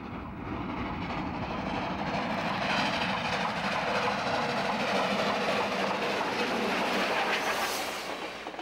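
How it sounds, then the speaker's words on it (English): A steam train on the Grand Canyon Railway rumbles past with steel wheels on rails, a steady loud clickety-clack roar that swells and holds close, with a faint high squeal near the end. "those steam trains, belching smoke and rumbling and swaying"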